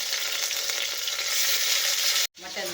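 Mutton pieces frying with browned onions for a ladies-finger mutton curry, a loud continuous sizzle close up, then a sudden brief cutoff before the hiss resumes more faintly.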